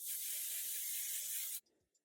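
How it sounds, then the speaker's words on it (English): Wax spray hissing from an aerosol can onto hair in one continuous close burst of about one and a half seconds, then stopping abruptly into near silence. "I'm going to use some wax spray."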